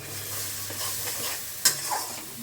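Coriander, cumin and dry chili powder masala stir-fries in a pan for a prawn dish, a close, soft continuous sizzle with spoon stirring and a sharp scrape or clack near the end.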